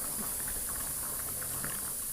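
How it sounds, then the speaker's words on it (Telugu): Water coming to a boil in a pigeon pea masala curry, a steady bubbling hiss with soft popping, even and close throughout. "వాటర్ వేసుకున్నాక ఒకసారి బా బాయిల్ రానివ్వాలి"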